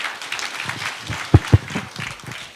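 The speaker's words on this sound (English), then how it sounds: "Another round of applause for the principals, please." Crowd applause at KICC in Nairobi, a moderate, fairly distant patter of clapping with two louder thumps standing out partway through.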